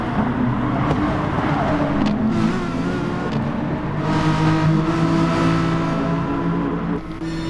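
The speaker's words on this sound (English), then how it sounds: "Chris doing more rallycross in the BMW than actual touring car racing so far." Touring cars in a sim racing game at the Red Bull Ring, a BMW among them, roar continuously with engines revving and shifting, loud and close, while a commentator talks over the race.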